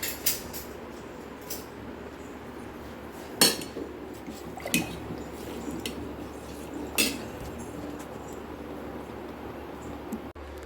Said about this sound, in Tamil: ஆப்பில் வச்சு கிண்டிக்கிட்டே வைக்க வேண்டியது.